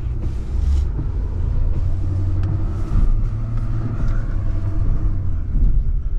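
A heavy GM work truck drives unloaded, its engine a loud, steady low rumble with small surges in pitch and bumps from the rough ride, no voices over it.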